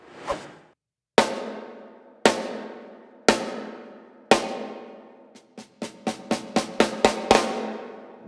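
A lower-tuned snare drum dampened with a gel pad for fewer overtones is struck alone: several evenly spaced, punchy hits with short decay, then a quickening run of strokes.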